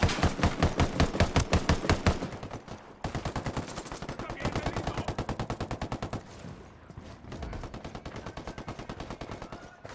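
Sustained automatic gunfire in a Ghost Recon firefight, rapid bursts of loud, close shots running almost continuously with brief gaps, voices faintly mixed in.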